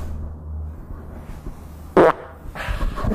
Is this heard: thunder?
no